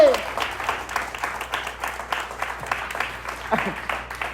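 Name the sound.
congregation applauding in church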